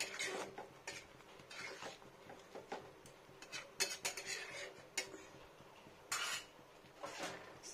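A spoon scrapes and clinks around a pot while taro, shrimp and tamarind curry with cumin, mustard and dried chili paste is stirred, giving soft irregular knocks and rattles close up at low volume.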